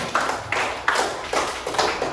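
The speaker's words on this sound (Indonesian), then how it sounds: "Nah, lagi tepuk tangan dulu ya." A classroom of children claps in a few distinct bursts, sharp slaps at a quick irregular rhythm close by in a small room.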